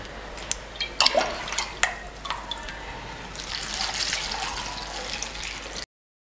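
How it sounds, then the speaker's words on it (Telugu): Water poured into a cup of cut brinjal pieces in a home kitchen, a few dripping splashes at first, then a steady soft trickle running for several seconds before stopping abruptly. "సపరేట్ ఒక కప్పులో వేసుకొని వాటర్ వేసేయాలి"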